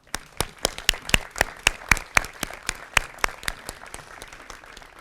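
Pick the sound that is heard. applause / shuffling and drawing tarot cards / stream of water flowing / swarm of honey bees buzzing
applause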